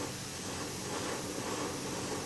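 A variable airbrush sprays mostly air with very little fluid while shading an acoustic guitar in a workshop, giving a steady, soft, even hiss that runs without pause.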